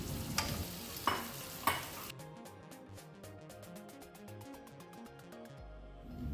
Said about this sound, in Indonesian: Oseng sampai semua bumbu merata.